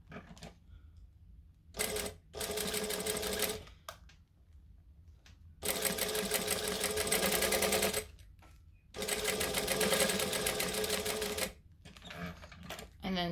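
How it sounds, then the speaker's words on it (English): A home sewing machine top stitching thick fabric runs in several loud bursts of rapid mechanical stitching, separated by short pauses and quieter handling sounds. "And then I'm going to top stitch."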